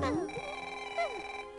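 A telephone rings in a Digimon Adventure film scene, a steady electronic warble with sliding tones repeating across the moment, clear and close while a voice briefly sounds over it.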